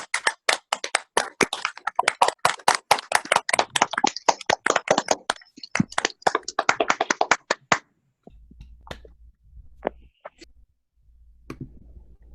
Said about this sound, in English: Let's make clapping a little bit louder,